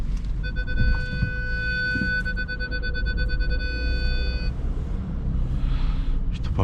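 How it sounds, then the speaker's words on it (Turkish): A Volkswagen Passat 1.4 TSI's parking sensor gives a steady high electronic tone that sounds repeatedly for about four seconds and then stops, over constant low road and engine rumble in city traffic. "İşte park sensörü bu yüzden seviyorum."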